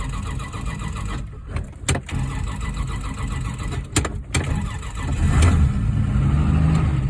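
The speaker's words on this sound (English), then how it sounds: "Okay, the car starts." Engine of a 1966 Dodge Dart GT barn find, with a few sharp cranking bursts before it catches and settles into a steady, close idle that swells louder toward the end.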